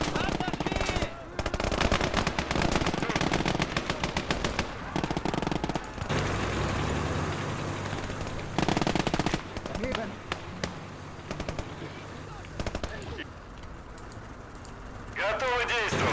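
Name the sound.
machine gun fire in video game The Southern Front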